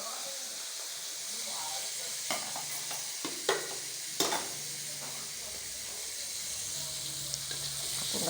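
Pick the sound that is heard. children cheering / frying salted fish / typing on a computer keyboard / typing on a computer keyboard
frying salted fish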